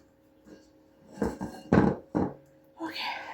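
A spatula scraping and clanking against a dish of cake mix batter, giving several short, separate scrapes and knocks that grow louder, with a voice speaking briefly near the end.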